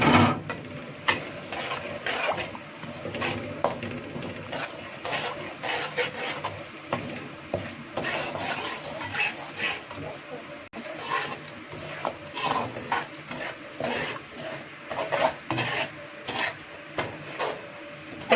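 A spoon stirs and scrapes semolina roasting in ghee in a pan for pumpkin halwa, with steady, busy metallic scraping and clinking throughout, close up and continuous, no talking.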